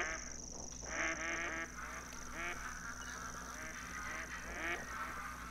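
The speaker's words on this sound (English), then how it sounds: "those ducks just started going nuts" Ducks in the hunting game theHunter: Call of the Wild quack and honk in repeated bursts, a noisy cluster of calls at moderate distance over a steady background hum, with no talk.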